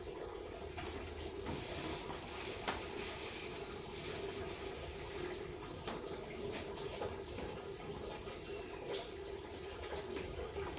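Running water pours steadily over fish being washed by hand, a continuous close splashing wash with small knocks and rubbing sounds throughout.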